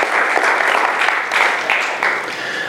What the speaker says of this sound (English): give her a thunderous round of applause